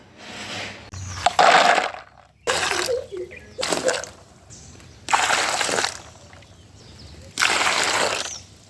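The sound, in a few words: washing and soaking beans in water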